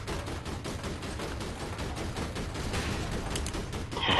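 Sustained automatic gunfire in the game APB Reloaded, a steady rattling fusillade running several seconds and swelling louder near the end, with no talk over it.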